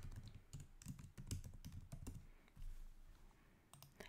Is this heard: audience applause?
no